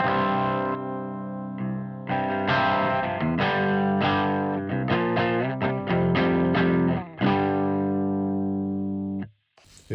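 Electric guitar through a compressor pedal plays notes and chords with an even, squashed sustain, played alone, each note ringing out smoothly before a brief pause near the end.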